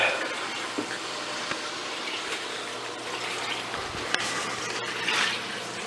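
A loud aquarium canister filter runs with a steady watery rushing and gurgling, continuous, with occasional faint clicks and splashes and no talking.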